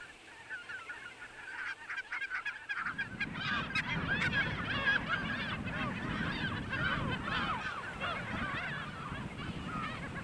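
Geese honk repeatedly in a loud, busy chorus at a lake on the Caspian lowland in Kalmykia, a waterfowl gathering spot, with overlapping calls building after a quieter opening.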